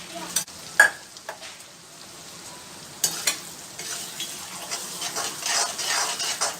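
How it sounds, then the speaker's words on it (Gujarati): Boiled peas sauté in hot oil for spicy sev usal, with a soft crackling fry under sharp spoon-against-pan knocks and scrapes early on, then the sizzle grows louder and busier toward the end. "વટાણાને આપણે આવી રીતે તેલમાં થોડા સાંતળી લઈશું"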